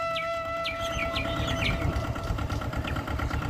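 A mini tractor's engine chugs at close range in a village, a steady low rumble throughout, with short chirping bird calls layered over it in the first half.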